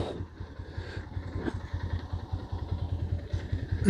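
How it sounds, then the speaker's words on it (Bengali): A motorcycle engine idles nearby with a fast, even low putter and some mechanical clatter while the bike is moved past a bamboo pole fallen across a road during a storm. "কোনো রকমে বাইকটাকে পার করি"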